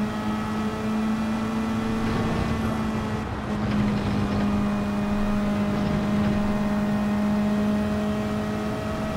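A McLaren race car in Gran Turismo 7 climbs a hill in stormy wet conditions, its engine holding a steady, loud buzzing drone with faint pitch shifts under load, continuous throughout.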